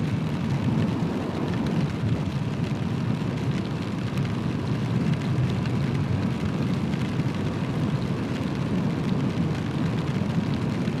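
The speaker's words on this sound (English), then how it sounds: "It's still raining pretty good." Steady broadband hiss of rain, continuous and even for the whole stretch, with a low rumble underneath, heard while riding a Honda CRF300L motorcycle.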